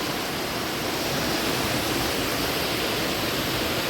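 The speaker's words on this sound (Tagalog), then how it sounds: "Guys, may pa fountain sila dito." A fountain at a hidden spot in Pamonglo, Camiguin pours water in a steady, dense rush of splashing, close and continuous with no voices.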